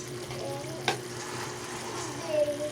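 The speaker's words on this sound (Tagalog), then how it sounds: "Haluin natin ng kutsara para mas madali" A spoon stirs corned beef and Reno liver spread in a pan, giving a steady, soft sizzling scrape close by, with one sharp clink near the start and a brief swell toward the end.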